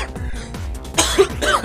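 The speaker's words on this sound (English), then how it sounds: "I got cough" A person gives a short burst of coughing during a Pokémon game session, with game music and sound effects playing underneath.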